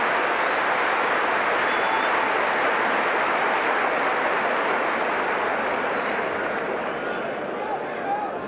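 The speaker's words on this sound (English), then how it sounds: "Here's Snowden, getting applause from the Everton faithful, that little move." An Everton football crowd applauding at a 1988 league match against Manchester United, a broad, steady wash of clapping and crowd noise throughout, loud and even.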